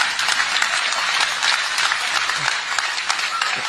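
Audience applause at a spoken political talk, a dense steady wash of many hands clapping throughout, loud and close.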